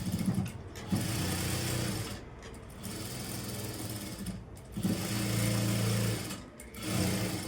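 A sewing machine stitches a cross-cut blouse, running in several steady whirring bursts broken by brief pauses, close and clear.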